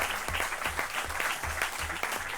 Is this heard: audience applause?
yes